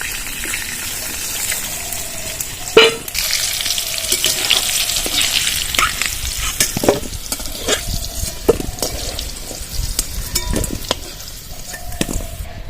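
Potatoes fry in oil until browned for a Bengali egg and jackfruit curry. A steady, close sizzle runs throughout, broken by occasional clinks and stirring sounds.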